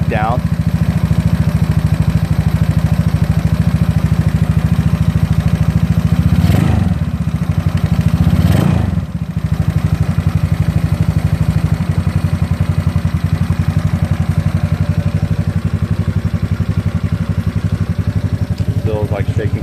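A GY6 scooter engine idles loudly and close with a steady low chug, briefly interrupted by a couple of bursts around the middle, while someone talks over it.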